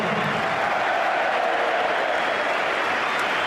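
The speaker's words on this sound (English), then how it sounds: "Applause from he who must be obeyed, reciprocated by the player being replaced" Crowd at a Chelsea versus Tottenham Hotspur football match in the 2003-04 season applauding a player being substituted, a steady broad wash of clapping and crowd noise from a distance with no break throughout.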